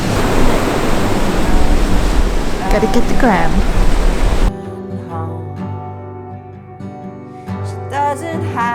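Ocean surf breaks steadily along the Algarve coast of Portugal, below cliffs spilling down to the sea, a loud, wind-tinged roar that fills the first half before cutting away to other sounds, with people talking over it.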